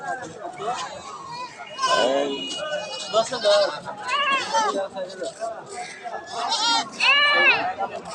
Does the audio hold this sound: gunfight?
no